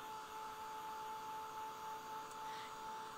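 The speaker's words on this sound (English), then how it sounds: "I'm just using my heat tool to dry," A craft heat tool blows hot air to dry paint on a doodled postcard, giving a steady, fairly quiet whooshing drone throughout with no speech.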